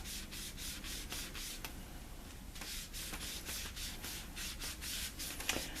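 Repeated rubbing on a rotten doll's surface makes a steady scratchy friction, rhythmic strokes about twice a second, close and fairly quiet, continuing without a pause.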